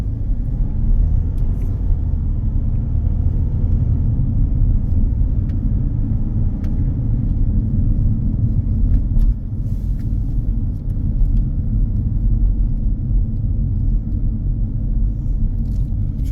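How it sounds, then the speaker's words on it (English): Steady low engine rumble and road noise from inside a car on a driving test route in Huddersfield, constant and close throughout with no talking. "Now I continue with the drive."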